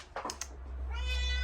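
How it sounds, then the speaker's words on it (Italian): A cat at a mountain home gives a short meow, preceded by a few faint soft taps and rustles, heard close and alone without talk. "Fai miau?"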